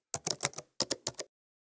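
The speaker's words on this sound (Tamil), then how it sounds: "ஏஞ்சல் அப்படின்னு சொல்லிட்டு டைப் பண்றோம்." A computer keyboard rattles through a quick burst of about ten crisp key taps, close and clear, during a short pause before silence.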